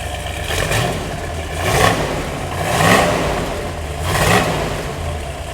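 A big-block engine in a 1965 Corvette Sting Ray idles steadily at 700 to 800 RPM with a deep rumble, swelling in low surges every second or so, close and loud with no talking.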